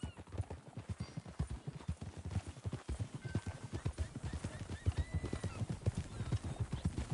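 Horse hooves clip-clop in a steady walking rhythm in the Red Dead Redemption 2 video game, soft and fairly close, with faint whistle-like tones drifting in midway.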